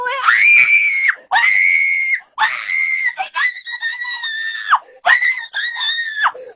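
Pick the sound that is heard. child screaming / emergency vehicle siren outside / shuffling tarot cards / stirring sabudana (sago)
child screaming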